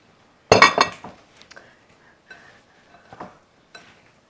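Utensils clink sharply against a bowl or pan as cayenne powder is mixed into stir-fry ingredients of onions, potatoes, carrots, red cabbage and celery. A few close taps open the clip, followed by softer scattered clinks.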